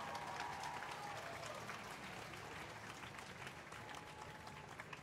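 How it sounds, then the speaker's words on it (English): Audience applause fills the room steadily, a dense wash of many hands clapping at moderate volume that holds throughout with faint crowd murmur beneath. "Another round of applause."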